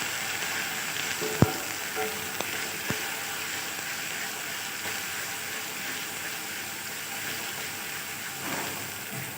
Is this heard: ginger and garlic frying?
yes